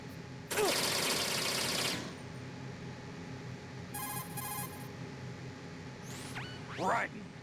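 Enemy gunfire in the video game Metal Gear Solid 2, a loud dense burst of rapid shots lasting over a second, followed by brief electronic beeps and a couple of rising game effects.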